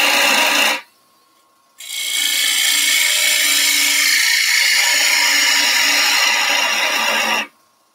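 A 3/8 bowl gouge cuts a wooden bowl shape on a lathe, a loud, close, continuous scraping rasp in two long passes separated by a short silent break.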